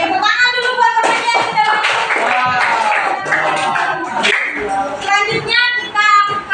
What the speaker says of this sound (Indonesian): Oke, tepuk tangan dulu buat temannya.